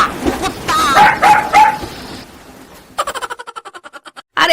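A dog-barking sound effect of quick, evenly spaced yaps follows a man's speech, then cuts off abruptly.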